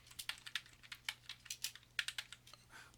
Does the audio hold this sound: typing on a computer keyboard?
yes